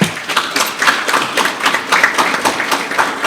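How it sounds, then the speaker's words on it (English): An audience claps hands at a football federation ceremony, a steady run of close, crisp claps with a rhythmic pulse that holds throughout, with no talking over it. "Can we clap hands for them, please?"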